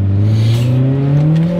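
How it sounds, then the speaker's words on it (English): A Honda car engine revs hard toward VTEC, its tone climbing steadily in pitch over a second and a half, loud and close with no one talking. "I'm gonna hit VTEC here"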